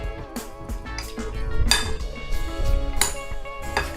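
Ingredients for chicken Alfredo are mixed in a bowl, with repeated clinks and scrapes of a utensil against the dish in an irregular rhythm, close and fairly loud.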